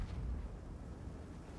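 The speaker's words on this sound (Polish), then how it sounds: "No właśnie, oddaję strzał." A tank cannon fires in World of Tanks, a low rumbling boom that rolls out and fades, heard alone at moderate distance.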